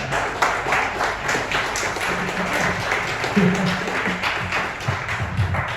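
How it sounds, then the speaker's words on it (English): A crowd at a tech event applauds with continuous clapping that holds steady for several seconds, without any talking. "Alright, round of applause for that."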